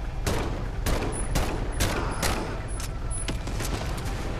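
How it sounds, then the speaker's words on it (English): M1 Garand rifle fire in the virtual reality game Medal of Honor: Above and Beyond, several loud, close shots cracking over a dense, continuous roar of battle noise. "Drive by Garand."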